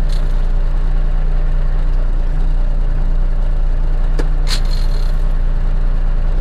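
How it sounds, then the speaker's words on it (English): A dump truck engine idles in neutral with a steady low drone and hum that holds throughout, joined by a brief sharp click and a short hiss near the end. "we're in the truck idling in neutral"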